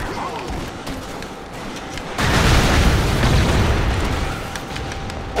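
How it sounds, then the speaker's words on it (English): A grenade goes off in the side-scrolling action game Expendabros, a loud, sustained blast that swells abruptly and rumbles for several seconds over background game noise. "Stupid grenade."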